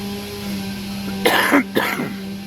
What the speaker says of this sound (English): Acid reflux depriving me of my teeth has also made me cough